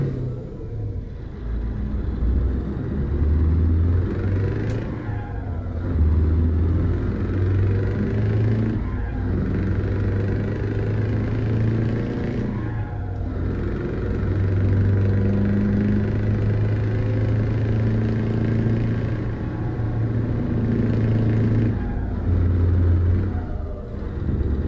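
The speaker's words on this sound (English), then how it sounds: "What mod do I use for the truck sound? Oh, it's just Slav Jerry's" Scania truck engine in Euro Truck Simulator 2 with a Leipzig sound mod, a steady low diesel rumble droning throughout, rising and falling with gear changes and revs, close and loud.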